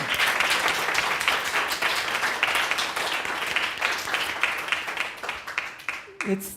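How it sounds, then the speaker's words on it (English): An audience gives a round of applause, with many hands clapping in a dense, steady burst that gradually thins out before a voice briefly begins speaking at the end. "So can we just kind of give a round of applause for all of that?"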